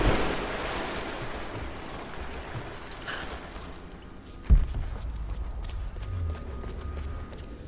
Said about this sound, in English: I am going in the water.